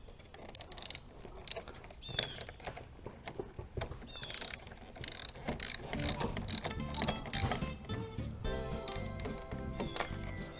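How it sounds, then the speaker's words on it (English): A socket wrench ratchets in quick bursts while tightening a car battery terminal nut, close-up clicking strokes with short pauses between, growing denser toward the end. "I'm going to finger tighten the nut, and then get it the rest of the way with my socket."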